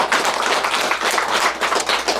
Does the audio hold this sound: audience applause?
yes